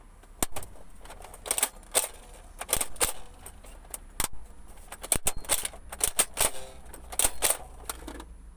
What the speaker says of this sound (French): Je suis juste en train de mettre plein de billes dans le canon.